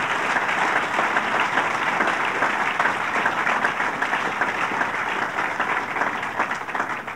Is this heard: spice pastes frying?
no